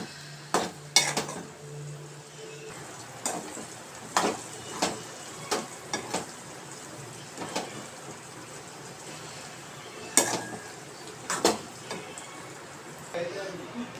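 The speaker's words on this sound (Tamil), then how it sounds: "பூண்டை அந்த எண்ணெயில் தட்டி நல்லா வதக்கணும்." Garlic sautéing in sesame oil for a spicy garlic pickle, with scattered clinks of a spoon stirring against the pan over a low background hiss and no one speaking.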